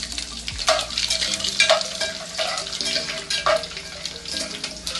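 Garlic frying in a pan of hot oil with mustard seeds, a steady moderate sizzle with stirring clinks and scrapes, and a brief tap-water rush in the background; no talking.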